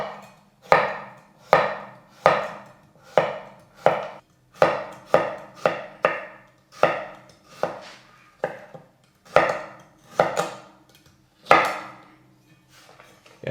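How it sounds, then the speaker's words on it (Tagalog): Carrots being chopped with a knife on a board, a long run of sharp, evenly paced cuts, about one or two per second, close and distinct with brief pauses, no speech. "Unahin ko yung carrots, hiwain ko lang."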